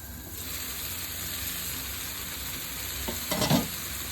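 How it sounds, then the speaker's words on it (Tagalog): Vegetables sauté in a covered pan, a steady close sizzle and hiss that runs throughout, with a short clatter of stirring or lid movement near the end. "takpan lang natin saglit para mabilis magisa ang ating gulay"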